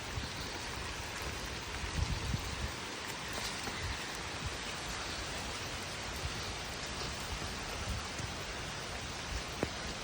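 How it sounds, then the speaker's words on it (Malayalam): Steady, dense rain hiss fills the whole stretch, fairly quiet and even, with occasional faint drips and no voices. "മഴയാണ്."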